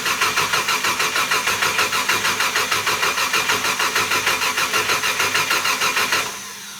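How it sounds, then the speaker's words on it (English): Twin big-block marine engine on the starboard side of an old yacht, said to have an oil leak, cranking in a steady rapid rhythm for about six seconds before catching and settling into a lower idle, loud and close with no talk. "let's try the starboard engine, the one with the supposed oil leak"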